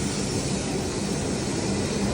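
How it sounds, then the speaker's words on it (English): Inside a smooth-running train travelling from Tokyo to Takasaki, a steady, even rumble of wheels and cabin noise fills the space, loud and constant without speech. "But just gorgeous train. Really smooth ride, so easy."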